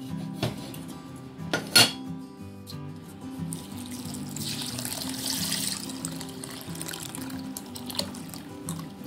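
Three kinds of dal lentils are washed in water in a kitchen vessel, giving soft swishing and sloshing water sounds with a few sharp clinks of metal utensils, all fairly quiet.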